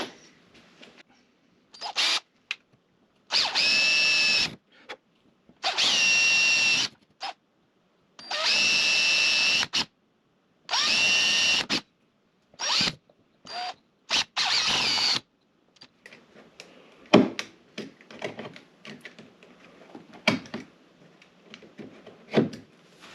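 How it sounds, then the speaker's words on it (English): A power drill whines in several loud, even bursts of a few seconds each, separated by pauses, followed by scattered clicks and handling noises. "Drill a series of holes."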